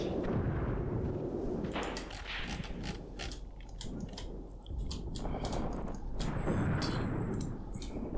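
Gunfire in the wartime tactics game Graviteam Tactics, with scattered sharp shots and bursts crackling over a rumbling background. Shots come irregularly, some clustered and some spaced apart, at a moderate distance.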